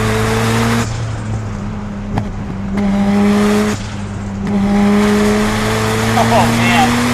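A 417-horsepower Mazda RX-7 rotary engine drops through the revs under heavy braking during a road drive. The loud engine drone shifts pitch in steps between gear changes, and a driver talks over it.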